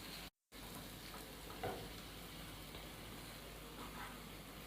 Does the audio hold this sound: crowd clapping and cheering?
no